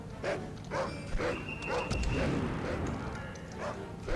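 A dog barks repeatedly in the Medal of Honor shooter game, short yapping bursts mixed with game noise and a faint steady tone, moderately loud across the scene.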